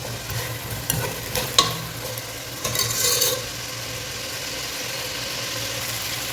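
Boiled chicken fries in oil in a pot, a steady low sizzle with a few sharp scrapes and clanks of stirring early on, then settling into an even hiss.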